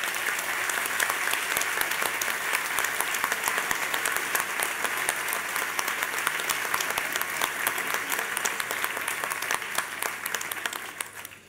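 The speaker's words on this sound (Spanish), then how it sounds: "Quiero pedir un aplauso muy especial" A large crowd at a conference marking Israel's 70th anniversary applauds steadily and loudly, dense clapping sustained throughout before tapering off at the very end.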